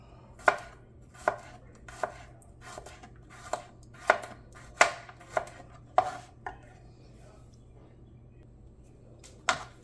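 Kitchen knife chopping an onion on a cutting board, about a dozen crisp, close thwacks at an uneven pace, clustered in the first six seconds before trailing off into near silence.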